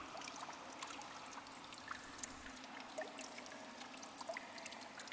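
Shower water running in the horror video game The Bathhouse, a faint, steady trickle and splash that continues for several seconds with small scattered droplet ticks and no talking.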